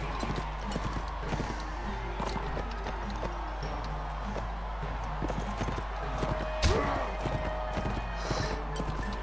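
Clip-clop of galloping horse hooves with a brief whinny in a jousting video game, steady rhythmic trotting heard over a constant low background hum.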